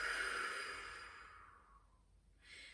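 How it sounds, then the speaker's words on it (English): A single long open-mouth exhale during yoga breathing, a soft breathy whoosh that fades out over about two seconds before a faint new breath begins. "Big inhale in through the nose, filling up. And open mouth, exhale."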